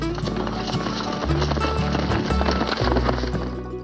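Horses being ridden in the Western film The Searchers, with galloping clip-clop hoofbeats in a quick, steady rhythm set against a loud orchestral film score.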